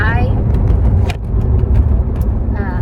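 A car drives through traffic with a steady, loud engine and road rumble throughout, while a person talks over it.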